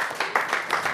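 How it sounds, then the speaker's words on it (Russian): Brief clapping from a family-evening event audience in Gomel, a few distinct claps in loose rhythm, fairly close. "Под ваши аплодисменты, дорогие друзья."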